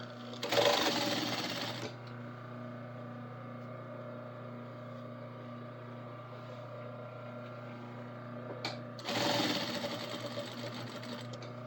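A sewing machine runs in two loud bursts of stitching, one at the start and one near the end, with a steady motor hum continuing faintly in between.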